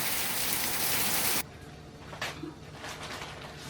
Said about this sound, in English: The weather is so bad on the outside. It's just raining down